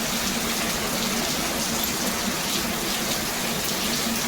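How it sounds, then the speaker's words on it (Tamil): Heavy rain pours down outdoors, a dense, even hiss of water hitting surfaces that stays loud and constant from start to finish. "மழை பாருங்கள், கொலன்னு மழை எப்படி ஊற்றிக்கிட்டு இருக்குன்னு"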